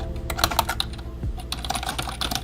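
Code is typed on a computer keyboard in quick, irregular bursts of close key clicks, with no talking.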